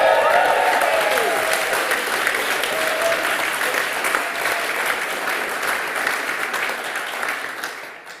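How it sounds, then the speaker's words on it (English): An awards-ceremony audience at the SPAB Heritage Awards cheers and applauds loudly and steadily, with a few whoops early on, the dense clapping gradually thinning toward the end. "Cheer if you're a fan of Rory Young."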